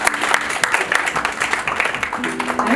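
Conference audience at a hotel clapping as a speaker comes forward, a dense crackle of many hands with distinct sharp claps, fairly close, with some talk layered in.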